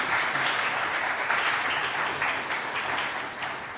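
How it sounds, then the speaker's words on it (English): A conference audience applauds the sponsors at a regional community resilience opening ceremony, a dense, steady wash of many hands clapping throughout, fading slightly at the end. "Can you have another round of applause for our sponsors?"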